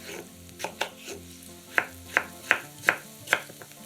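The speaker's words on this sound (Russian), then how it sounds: "3-4 картошки нарезаем кубиками." A knife chops potatoes into cubes on a board, sharp close thuds in a loose, fairly regular rhythm of around eight strokes, with a soft background hum and no voices.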